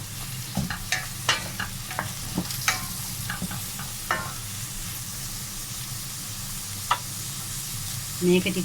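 Mixed vegetables and broccoli stir-fry for a vegetable chop suey, a steady close sizzle broken by repeated scraping stir strokes in the pan, with a brief voice speaking.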